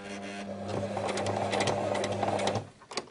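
Sewing machine stitching backwards to lock the start of a seam on a girl's circle skirt with a ribbed waistband, a close steady mechanical whir with a rapid needle rattle that stops abruptly near the end.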